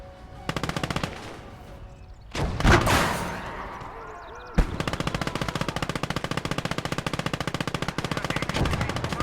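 Battle gunfire in the Kelly's Heroes war game: bursts of rapid machine-gun fire rattle loudly, broken by a heavy explosion-like blast, then a long sustained automatic stream.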